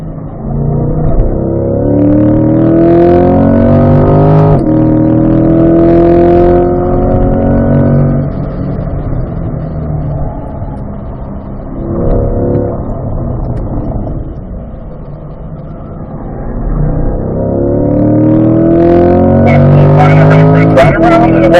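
A race car engine drones loudly from inside the car on a track, rising and falling through gear changes and easing off throttle down a hill, with a voice talking over the engine noise.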